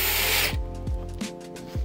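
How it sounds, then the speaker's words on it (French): A power drill whirs in a short burst at the start, then falls silent as a few dull knocks and clicks follow, sounding close and moderately loud with no talk. "Blind test perceuse"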